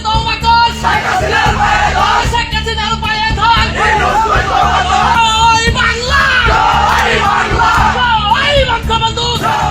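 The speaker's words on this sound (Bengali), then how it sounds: "তাদেরকে সচিবালয় ঘেরাও করে বিভিন্ন স্লোগান দিতেও দেখা যায়" Large crowd of Awami League protesters surrounding the Secretariat in Bangladesh, chanting and yelling slogans in loud continuous unison, a dense roar of many voices close by.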